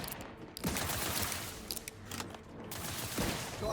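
Gunfire in The Outer Worlds 2 rattles in rapid, continuous bursts of shots with brief gaps, a dense fusillade fairly loud throughout.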